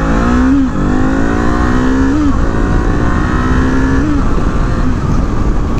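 A Kawasaki cruiser motorcycle accelerating hard through the gears, its engine note rising in pitch and dropping at each of several shifts, loud and close throughout.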